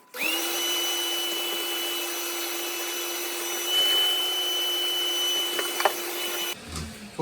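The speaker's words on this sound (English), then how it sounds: "we're going to use this 𝐬𝐻𝐬𝐻 electric drain cleaner" An electric drain cleaner running on a clogged sink or tub drain, a close, steady motor whine with a high sustained tone, a slight surge in the middle and a clunk as it cuts off near the end.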